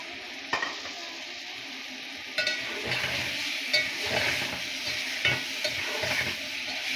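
Chicken pieces sizzle steadily in a hot pan, a continuous frying hiss with occasional stirring scrapes and clicks of a spoon, close and fairly quiet, with no voices.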